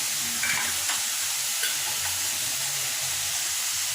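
Tomato pieces frying in a pan with coriander and fenugreek powder, a steady close sizzle with faint stirring scrapes throughout, no voices.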